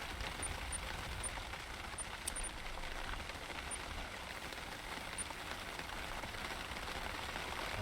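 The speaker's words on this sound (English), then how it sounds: "Oh, I love the sound of rain on a tent," Steady rain patters on a tent in the hunting game TheHunter: Call of the Wild, set in the Hirschfelden reserve, a soft even hiss of drops with occasional faint high ticks, heard alone.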